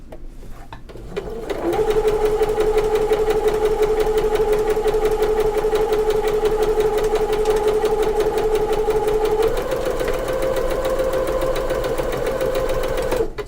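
A sewing machine runs steadily, stitching Cotton Cuts quilt pieces for a Tree of Life block; a close, continuous mechanical hum starts after a brief pause, then shifts slightly higher in pitch near the end.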